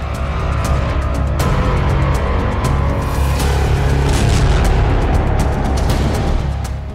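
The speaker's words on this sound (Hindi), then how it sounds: "धमाकों की आवाज किसी बॉर्डर की नहीं बल्कि महाजन फील्ड फायरिंग रेंज की है, जहां अमेरिका और भारत का संयुक्त सैन्य अभ्यास चल रहा।" Explosions from an India-US joint military exercise at the Mahajan field firing range in the Rajasthan desert: a loud, dense wall of booming blasts and rumble, with sharper bursts standing out over continuous heavy noise.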